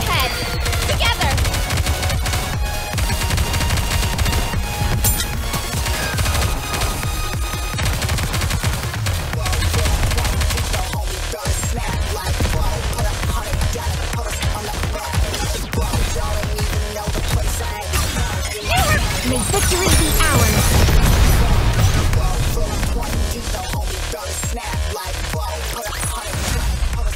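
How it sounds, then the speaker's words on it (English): Rapid shooting in the mobile RPG shooter Nikke Goddess of Victory, a dense, continuous barrage of gunfire bursts layered over game effects and background score for nearly half a minute. "We need to fire straight ahead."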